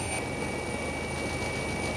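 A rescue helicopter in flight over the Dolomites in the Italian Alps, its steady, even rotor and engine drone filling the cabin with constant noise and a thin high whine.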